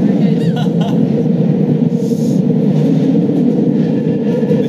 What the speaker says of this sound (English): So close to a tube, seeing it go through a tunnel.